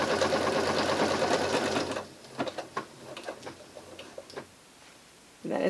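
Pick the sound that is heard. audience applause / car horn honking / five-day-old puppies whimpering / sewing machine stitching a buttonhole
sewing machine stitching a buttonhole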